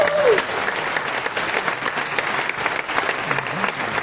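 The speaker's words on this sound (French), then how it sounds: "Je vous demande d'applaudir très très fort." Loud, dense applause from an audience filling a historic cinema at a festival opening ceremony, a steady wash of many hands clapping throughout with a faint whistle near the start.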